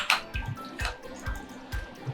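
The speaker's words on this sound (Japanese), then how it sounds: "そして豆腐もお湯を切ってかけます" Hot water drained from tofu and poured in a kitchen, dripping and splashing in a steady rhythm of soft liquid plops and wet squishes at close range.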